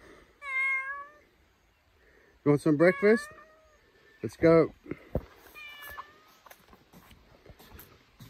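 A cat meows several times on a morning at a cafe in Japan, with short, near, clear cries early on and fainter ones later, mixed with a person talking close by.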